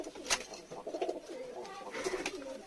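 Pigeons coo in soft, throaty bursts, a few repeated calls close by over a faint background hum.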